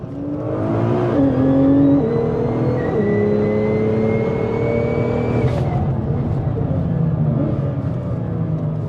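A 1000HP Nissan GT-R race car is driven hard on a track, its engine loud and close in a sustained high-revving drone, with pitch climbing through gears and a brief sharp shift or pop midway.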